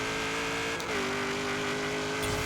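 A 1970 Chevrolet Camaro Z28 drag car at full throttle in Forza Horizon 3 roars steadily, drops in pitch at a quick shift into second gear, then keeps pulling hard, loud and close with no talk.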